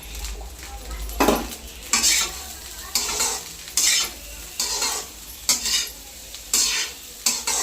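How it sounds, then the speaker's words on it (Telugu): A metal spoon stirs boiled carrots and beans into egg fried rice frying in a pan, with repeated scraping clinks against the pan in steady bursts over a soft, continuous sizzle. "ఇందులో మనం ముందుగా బాయిల్ చేసిన క్యారెట్ అండ్ బీన్స్ వేసుకోవాలి"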